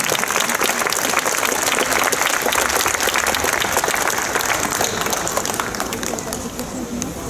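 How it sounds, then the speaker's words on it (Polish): Audience applause for Mrs. Renata at a poetry night, a thick burst of crowd clapping that stays loud and steady before slowly tapering toward the end, with some murmuring underneath. "No cóż, jeszcze raz wielkie brawa dla pani Renaty."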